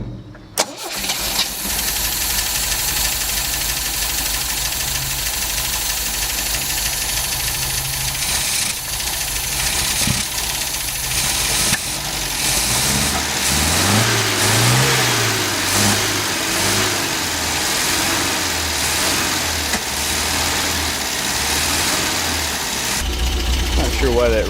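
Car engine turning over and catching, then idling steadily before being revved a few times with rising and falling pitch; close by, with occasional voices over the running engine.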